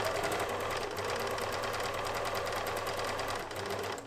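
A sewing machine stitches quilt blocks with a steady, fast mechanical whir and dense even needle rhythm, running continuously and fairly close with no voices.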